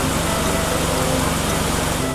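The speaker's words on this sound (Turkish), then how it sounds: "Yollara asfalt yapan makine işte bu." A road-paving asphalt machine's engine runs as a steady, loud, continuous drone with a low tonal hum, holding constant throughout without pause.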